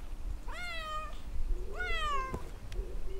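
A cat in a video game meows twice, two clear rising-and-falling meows about a second apart, close and distinct over a quiet background.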